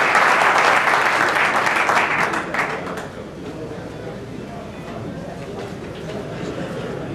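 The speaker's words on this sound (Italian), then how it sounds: "Con un applauso" A meeting audience at a FIGC Veneto election applauds Benedetto Piras, vice president of the Lega Nazionale Dilettanti. Loud, dense clapping fills the first three seconds, then thins to a softer, scattered patter with room murmur and talk beneath.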